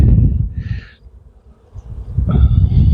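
Honeybees swarming over a drawn frame from a mating nuc: close, buzzing hum that comes in two short bursts over a heavy low rumble, with a brief quieter gap between them.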